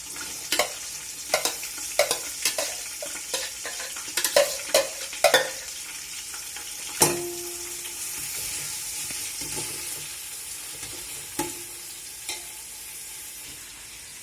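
Onions fry and get stirred in a pot for chicken biryani: a soft continuous sizzle under a string of sharp spoon scrapes and clinks, denser at first and thinning out later, close by, no talking.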